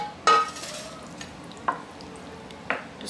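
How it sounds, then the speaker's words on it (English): Apple pie filling being stirred into baked beans, three sharp scraping, clattering spoon strokes against the pot spaced about a second apart, close with quiet pauses between. "Just gonna mix those in"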